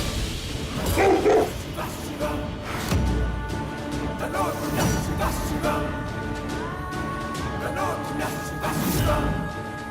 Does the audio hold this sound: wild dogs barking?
yes